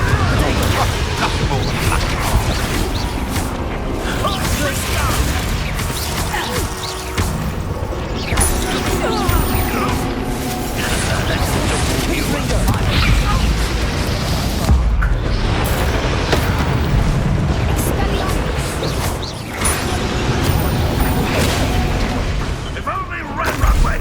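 Explosive spell blasts from Confringo in Hogwarts Legacy combat, a dense run of booming bursts and crashes over a constant clatter of battle effects, loud and close, with a voice speaking over the action.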